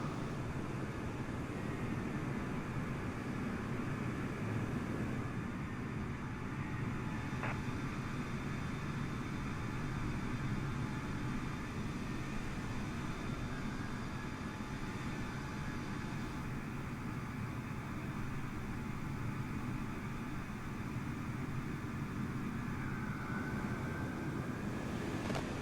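Jet airliners spooling up for takeoff at a Hong Kong airport in Microsoft Flight Simulator, heard as a steady broad engine roar with a faint whine, constant and unbroken throughout, no talk.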